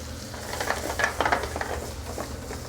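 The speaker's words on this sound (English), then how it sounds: "Saute that down. Then you're just gonna throw your vegetables in there." Vegetables sizzling and sautéing in butter in a pan, with stirring scrapes and crackles close up, steady and moderately loud with no talking.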